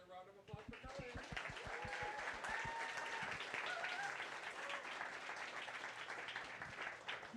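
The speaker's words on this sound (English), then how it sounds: "How about another round of applause for Colin?" An audience at a casual evening lecture event applauds a presenter, with dense, sustained clapping after a few distinct early claps, and voices faintly audible beneath.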